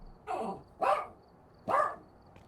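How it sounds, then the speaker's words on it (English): A dog gives three separate short barks, spaced unevenly and fairly faint, over a quiet background with no talking. "That's a good dog."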